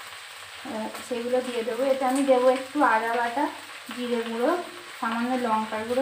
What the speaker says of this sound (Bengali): সেই পুঁইশাকটা একটু ভালো করে নাড়াচাড়া করে নেব।